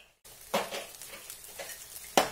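Ragi (finger millet) dosa cooks on a hot pan with a soft, steady sizzle, broken by a few louder scraping or stirring bursts near the start and end, close and fairly quiet.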